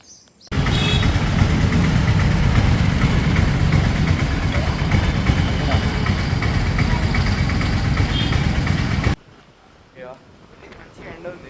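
An old scooter engine runs steadily and loudly for about eight and a half seconds, then cuts off abruptly, leaving quiet background.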